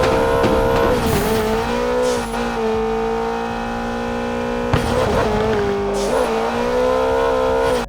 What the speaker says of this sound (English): a racing game where you get behind the wheel of cars and experience epic thrilling races